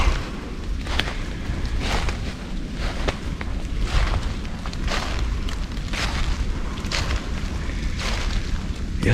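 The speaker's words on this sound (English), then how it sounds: "it's spitting rain, and the wind is just howling" Gusting wind buffets the microphone outdoors in a Pennsylvania autumn woods during bow season, with spitting rain, loud broadband rushing that surges in repeated bursts throughout.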